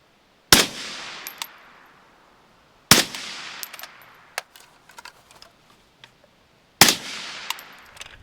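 Three suppressed gunshots from a rifle fitted with a JK Armament Form 1 suppressor, fired past the camera into dirt outdoors, each a sharp loud crack with a short decaying tail, spaced a few seconds apart.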